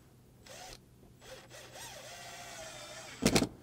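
Power drill driving screws to hold a Velcro strip on a Four Wheel Campers thermal pack: short whining drill bursts with rising and falling pitch, then a sharp clattering burst at the end, close and fairly quiet.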